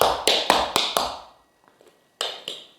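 Tap shoes strike a hard floor in quick tap-dance riffs, one short burst of crisp clicks, a brief pause, then a few more sharp taps, close and clear with no talking.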